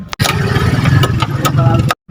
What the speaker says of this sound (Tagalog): Dadaling ko na ang paborito kong motor.